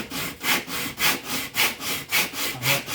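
Violin linings, standing proud of the ribs, are rubbed back and forth on sandpaper glued to a flat board, an even rhythmic rasp of about six strokes, close and loud.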